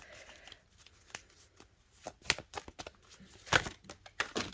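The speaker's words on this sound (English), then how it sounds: "half the deck just fell, so I'm going to continue to shuffle" Cards riffle and slap in quick irregular bursts, several crisp shuffles close up with brief pauses between them.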